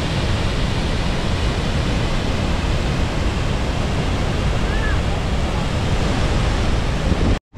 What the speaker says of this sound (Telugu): చూస్తున్నారు కదా నా వెనకాల ఫ్లో ఎలా ఉందో.